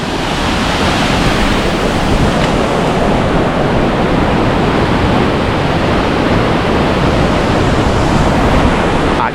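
Swollen Guadalquivir river water below Ronda after torrential rains rushes as a loud, continuous broadband roar, steady and unbroken throughout with no voices.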